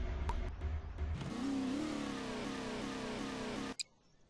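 A vehicle engine in the Borderlands video game revs up and holds a steady, mid-pitched drone with rising tone, then cuts off abruptly near the end, leaving a faint quieter tail, with no talk over it.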